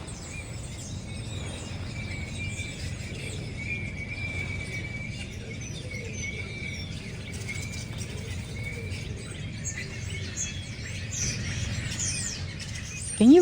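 Birds sing in a city garden in spring: many quick chirps and trills overlap steadily for the whole stretch, over a low constant background rumble.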